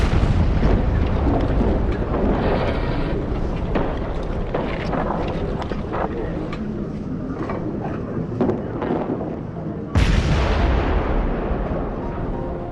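A French World War I artillery bombardment rolls on as a loud, dense rumble of overlapping booms, with one sharp, heavy blast toward the end.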